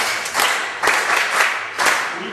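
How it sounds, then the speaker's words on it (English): A classroom of students bursts into short rounds of applause for a classmate during a science lesson in Kenya. Three or four quick, loud waves of clapping close by, each fading briefly before the next. "Venus, clap for her."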